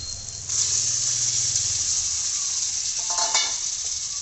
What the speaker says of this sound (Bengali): এবার মশলার সাথে চিকেনটাকে খুব ভালো করে কষিয়ে নেব